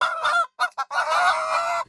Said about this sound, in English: The flock of chickens inside had erupted into frantic screeching, as if they had been frightened by something.